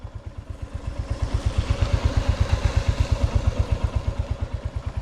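Royal Enfield motorcycle riding along a coastal road in Tahiti, its single-cylinder engine thumping in a steady rapid beat, close and fairly loud, with a faint rise as the bike accelerates.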